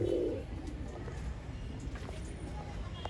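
Pigeons coo at a pigeon sale in Bangalore, a low burbling murmur under a busy background, with a brief voice at the start.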